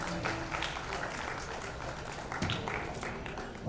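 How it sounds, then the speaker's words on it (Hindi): Audience applause at a felicitation ceremony, a sustained, fairly steady clapping from a crowd for a few seconds, with some crowd noise mixed in. "जोरदार तालियां अनंत जी के लिए।"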